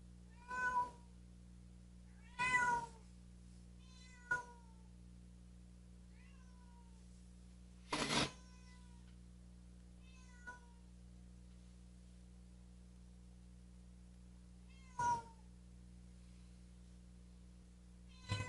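A cat meows repeatedly at a partly open door, about seven separate calls spaced a few seconds apart, close and clear over a steady low background hum, with no talking.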